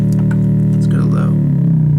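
Low-pitched tone from a homemade analog VCO mixing square, triangle and sine oscillators through paralleled 4.7K and 10K resistors, steady and loud with a warm buzzy phase-distorted edge, a voice briefly sweeping over it midway.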